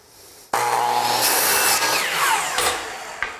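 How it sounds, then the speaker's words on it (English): A power saw cuts a piece of wood to length for finish carpentry, starting with a sharp onset into a loud, harsh cutting whine that shifts in pitch as the blade passes through, then trails off after about three seconds. "First, we're gonna cut the right length."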